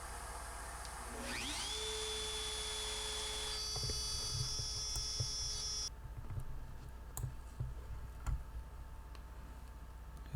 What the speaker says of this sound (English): you'll see a vacuum back there, helping keep things clean